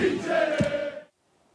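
Palermo football supporters cheering and chanting as they greet their team one evening, a dense crowd roar with a sustained tonal chant, then cutting off abruptly to near silence.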